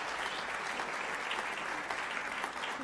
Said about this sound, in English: Listen to that Otterbein cheer for you